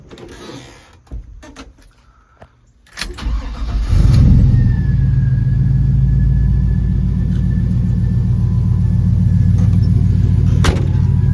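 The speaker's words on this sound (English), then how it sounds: "nice sounding mufflers. Gives it a nice rumble." A 1949 Chevy 3100 pickup with a fuel-injected 5.3 LS Vortec V8, headers and mufflers cranks and fires up after a few clicks, then settles into a loud, close, steady deep idle rumble that holds for several seconds.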